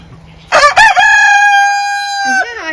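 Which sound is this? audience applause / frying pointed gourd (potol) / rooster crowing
rooster crowing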